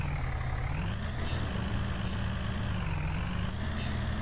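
A Gavril D Series pickup truck in BeamNG.drive strains off-road on a tough truck course, its engine droning in a loud, steady low rumble with slight rising and falling pitch.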